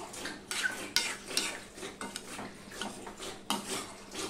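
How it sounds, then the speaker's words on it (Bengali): A spoon stirs vegetable curry in a metal pot just after salt goes in, giving irregular scraping clinks and knocks against the pot, close and moderately loud, with no talking. "দিয়ে সম্পূর্ণটা মিশিয়ে দিচ্ছি"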